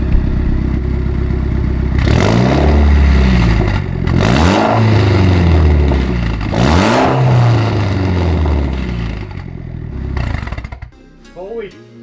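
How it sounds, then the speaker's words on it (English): Mitsubishi Evo X engine with a Tomei titanium exhaust revved hard several times, each blip rising into a loud raspy roar and falling back to a rumbling idle, close up, with excited voices exclaiming near the end. "let's rev it up"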